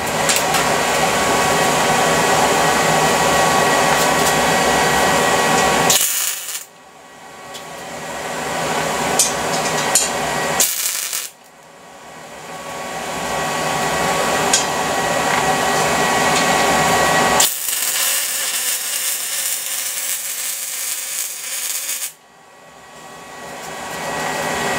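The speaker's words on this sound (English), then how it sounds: "I'll get to it and start welding." Welding a bracket for an axle onto the frame of a homemade gas-powered air compressor, heard as loud, steady broadband hissing crackle in three long bursts separated by short pauses, alone without talk.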